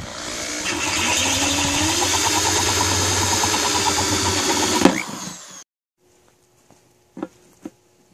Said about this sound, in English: So this is 11/16 drill bit.